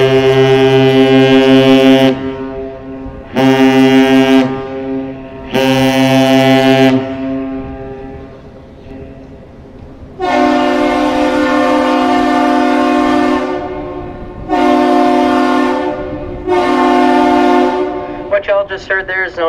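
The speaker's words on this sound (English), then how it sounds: "The ship initiates the greeting with one long blast followed by two short blasts, and the bridge responds with the same thing." At the Duluth ship canal, the articulated tug-barge Dorothy Ann/Pathfinder and the lift bridge trade captain's salutes: loud, deep horn blasts, one long followed by two short. The first set is sounded, then a second set answers, with brief quiet between.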